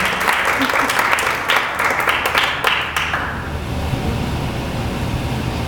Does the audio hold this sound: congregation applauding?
yes